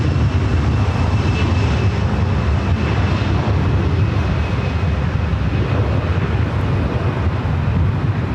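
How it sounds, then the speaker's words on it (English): A 32-year-old Delta Airbus A320 jet at Los Angeles airport gives a loud, steady engine roar that holds for several seconds, with no voices over it. "This is a 32-year-old Airbus A320."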